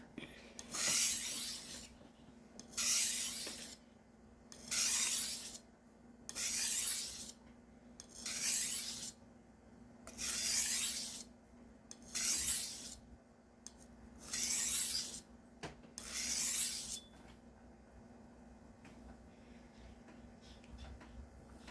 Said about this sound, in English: That is this softer stone being pulverized on here, and that leaves a little bit extra grit that'll help remove some of the more material off the knife